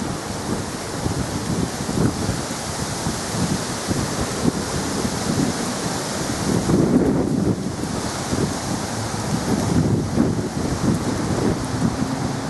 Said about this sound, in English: And it's a bit windy today.